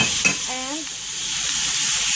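Liver and gizzard frying in a pan give a steady close sizzle, with a brief scrape of stirring near the start and a short squeak just after.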